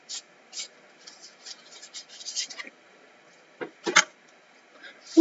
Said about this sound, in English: I feel like I'm shuffling all day.